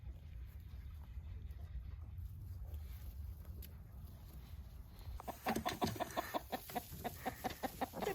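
Chickens clucking on a farm near pigs, faint at first, then a loud rapid run of close clucks in the last few seconds with no talking.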